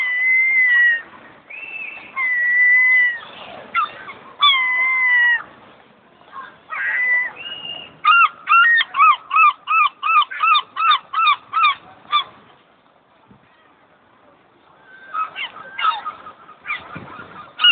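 Seagulls calling close by, a series of loud squawking and mewing cries, some in quick rhythmic bursts, separated by quiet gaps, with faint voices.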